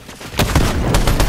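Gunfire in Fortnite, with a sniper rifle crack among several loud, sharp shots spaced over a second or so, heavy low boom under each report.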